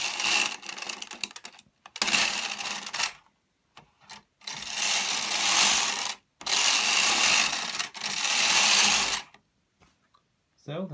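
A knitting machine carriage is pushed back and forth across the needle bed while knitting cable rows, giving several loud, sustained rasping sweeps separated by short silences and small clicks.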